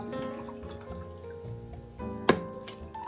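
Water and vinegar poured into a pot of sugar and salt for spicy preserved eggplant, giving soft close trickling and liquid splashes with a sharp clink from the vessel midway.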